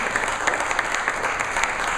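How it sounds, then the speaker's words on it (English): Applause from the audience at the DWF annual luncheon for Stephen Dinan, a dense, steady patter of many hands clapping at close range for the full two seconds. "ask everybody to give them a round of applause"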